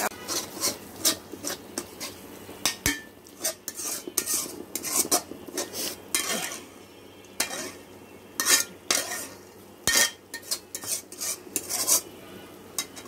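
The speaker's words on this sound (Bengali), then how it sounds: "মশলাটা আরও ভালো করে কষিয়ে নিতে হবে যতক্ষণ পর্যন্ত উপরে তেল উঠে না আসে" A metal spatula scrapes and knocks in quick irregular strokes against a pan as spice masala is sautéed for a non-vegetarian stuffed pointed gourd dish, heard close with a few louder clanks.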